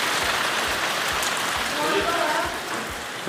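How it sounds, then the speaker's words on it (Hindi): Heavy rain hisses in a steady, dense wash, with a faint rhythmic thumping underneath and a voice speaking briefly partway through. "वैसे बहुत तेज़ बारिश हो चुकी है"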